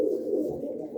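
Pigeon cooing close by, a soft, continuous low throaty coo lasting about a second.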